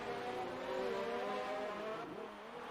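A race car spins out in a racing video game at Singapore, engine whining and shifting pitch with tire squeal as it slides, continuous and fairly loud, then the tone drops away near the end.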